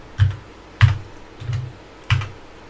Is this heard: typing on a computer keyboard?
yes